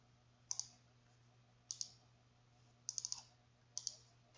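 Quiet computer mouse clicks while sending an order confirmation email, four small groups of sharp double and quadruple clicks spaced about a second apart over a low steady hum.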